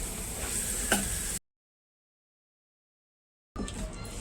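Ingredients for gunta ponganalu fry in a pan, giving a steady close sizzle with a few stirring scrapes. The sizzle cuts out to about two seconds of silence, then resumes.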